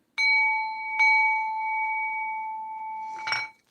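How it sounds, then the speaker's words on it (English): Two clear bell strikes ring out in succession, the second following about a second after the first, each leaving a long sustained metallic tone that fades before a brief rustle at the end. "I'm going to ring the bell."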